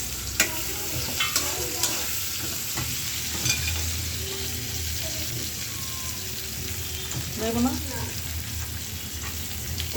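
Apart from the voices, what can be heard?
onions frying in a pan with eggs and bay leaf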